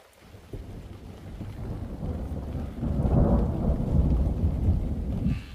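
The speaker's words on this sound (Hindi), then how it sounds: "तब तक बारिश आ गई" Rain pours onto an open wheat field during harvest, a dense hiss that grows heavier halfway through, with a low rumble of thunder underneath and no voices.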